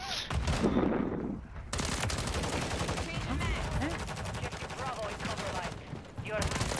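Rapid gunfire from the Bas-B battle rifle in a first-person shooter video game, bursts of shots crackling densely and loudly over game effects, with a brief quieter gap before firing resumes.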